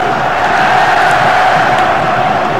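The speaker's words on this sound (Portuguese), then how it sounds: "Que é o barulho que vem da arquibancada, esse apoio da torcida" Stadium crowd in the Bomba Patch football video game, a loud, dense, continuous roar of cheering fans with no breaks.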